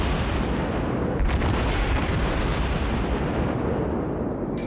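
Warship main gun firing in World of Warships, a single heavy booming blast with a rumbling tail amid dense game background noise, loud and close.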